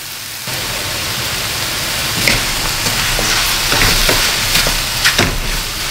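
Bottle gourd and sardines sizzle and fry in a pan, with a steady crackling hiss and a few louder scrapes and clinks of stirring near the end; no voices.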